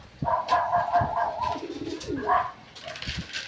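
Racing pigeons coo in a loft, with overlapping rolling coos and throaty trills close by, steady and fairly loud, joined by light scratchy rustling and faint background chatter of other birds.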